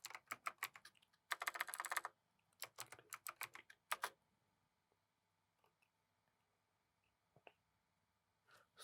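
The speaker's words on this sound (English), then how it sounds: "we just have to type the command truffle migrate" Rapid bursts of keystrokes on a computer keyboard as a command is entered, with clustered clicking in the first four seconds, then sparse isolated taps in a quiet room.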